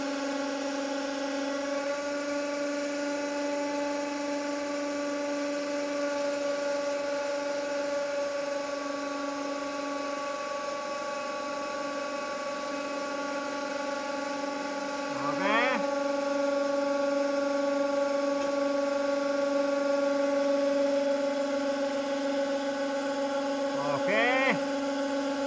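A hydraulic press slowly bears down on a welded floating table, its pump giving a steady tonal whine throughout, broken by two short rising squeals of straining metal midway and near the end.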